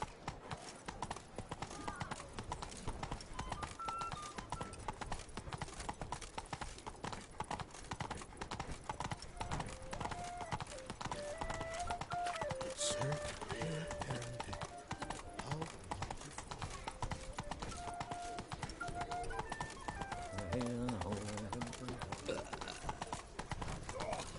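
Roach, Geralt's horse in The Witcher 3: Blood and Wine, clip-clops steadily through the whole stretch, hooves beating in an even walking rhythm up close, with a brief whinny and game music underneath.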